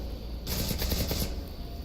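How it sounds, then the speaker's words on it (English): Gunfire in the VR shooter game Onward during a competitive team match, a brief dense burst of rapid shots lasting under a second, fairly loud over quiet background, with no talking. "Here come the nades."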